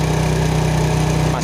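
Yamaha Jupiter Z motorcycle engine idling steadily during carburetor adjustment, a loud close continuous rumble with an even low throb throughout.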